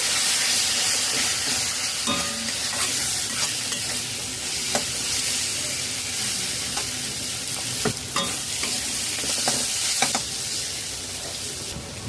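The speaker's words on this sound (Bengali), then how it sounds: "মশলা দিয়ে লো টু মিডিয়াম ফ্লেমে দু মিনিট নাড়াচাড়া করে কষিয়ে নিয়েছি" Spice masala of cumin-coriander powder and Kashmiri chilli powder loosened with hot water, stirred and fried in a pan over low to medium flame for banana kofta curry: steady close sizzle with repeated scraping spoon strokes, no talk.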